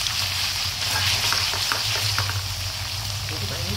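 Lemongrass salted pork chops frying in hot oil, with a steady dense sizzle and crackling pops throughout, close and loud, over a low kitchen hum.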